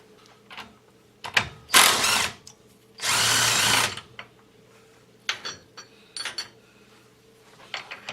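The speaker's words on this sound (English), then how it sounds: "Now what I'm going to do is get a 5/16 drill" A power drill with a 5/16 bit whines in two bursts, about a second each, drilling through metal on a snow auger, close by, between clinks and small metallic handling noises.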